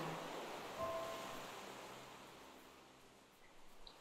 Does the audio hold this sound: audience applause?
no